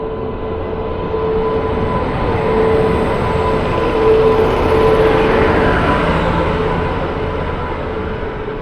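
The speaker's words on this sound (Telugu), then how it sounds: "16511 బెంగళూరు నుంచి కోజికోడ్ వరకు వెళ్ళే ఎక్స్ప్రెస్ ట్రైన్." The 16511 Bengaluru to Kozhikode express train passes close by, a loud continuous rumble of wheels on rails that swells and fades slightly over several seconds, with no talk.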